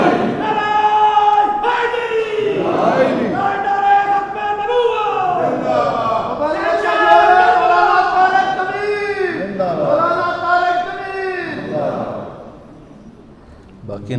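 Crowd chanting religious slogans in unison during a Muharram sermon, loud rising and falling group voices in repeated call-and-response bursts with a leader's voice between them.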